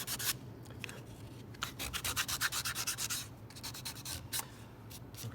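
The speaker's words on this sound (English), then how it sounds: "I think I'll sand that just a little bit" Sandpaper rubs back and forth over a wooden strut in quick, rhythmic strokes, close but fairly soft, with brief pauses between bursts of sanding.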